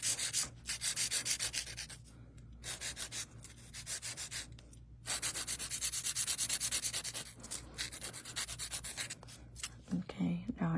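Rhythmic rasping strokes of a nail file working over fingernails and cuticles during a builder gel manicure, quiet and close, in repeated runs separated by short pauses.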